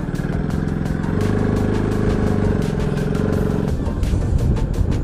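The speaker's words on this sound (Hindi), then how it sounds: "So bike start." A motorcycle engine runs steadily and close, its mid-pitched throb rising as the bike pulls away on a ride toward the Lal Draman Mela in Doda, Jammu and Kashmir, with no talk over it.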